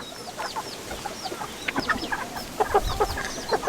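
Several chickens cluck close by outdoors at golden hour, with short irregular clucks and calls overlapping against a soft ambient background.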